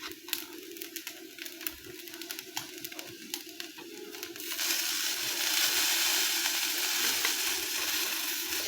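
Onion, garlic, chili and ginger paste frying with rice grits in a pan, a steady loud sizzle that swells sharply about halfway through as the wet ingredients hit the hot oil, with scattered stirring clicks.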